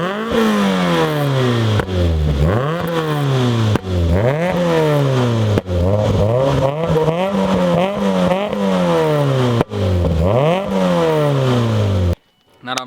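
A Ford Fiesta ST150 fitted with a Mountune catback exhaust is revved hard again and again, each loud close rev climbing steeply before dropping back, about six sweeping bursts in a row, then a sudden cut to near silence.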